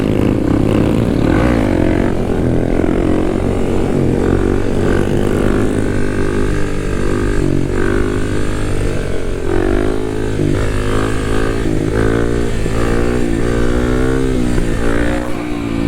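A Kawasaki KLX dual sport motorcycle revs hard during wheelies on a street ride. The engine is loud and close throughout, with its pitch rising and falling as the throttle opens and closes.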